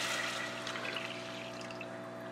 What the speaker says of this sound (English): So I'm pouring my cup of water in there right now.